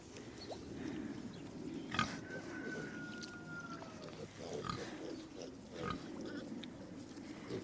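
Pigs grunt and snort in short irregular bursts at moderate distance, with occasional rustling and a faint squeal among them.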